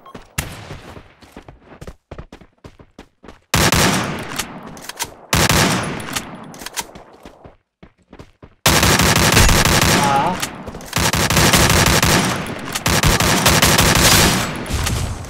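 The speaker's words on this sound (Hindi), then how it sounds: "चलो अब लेंगे ये AK-47 का कमाल, देखते हैं क्या होता है।" Bursts of AK-47 gunfire in the video game Free Fire MAX, starting with scattered single shots and then heavy sustained automatic volleys separated by brief pauses, loud and close with no voice over them.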